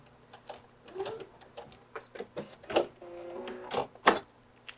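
A home sewing machine stitches fabric in short, quick bursts, with a final burst of backstitching at the end. The stitching is close and moderately loud against a quiet room hum.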